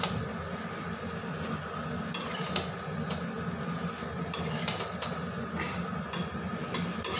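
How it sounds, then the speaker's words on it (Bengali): Chopped spinach is tossed with spices in a hot pan for a potato and spinach curry: a steady frying hiss runs underneath while a spatula clinks and scrapes against the pan several times. "পালং শাকগুলো মশলার সঙ্গে ভালো করে মিশিয়ে নেব।"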